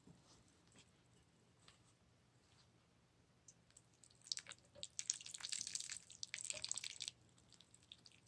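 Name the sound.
watering a cactus plant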